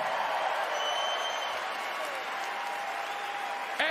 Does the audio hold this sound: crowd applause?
yes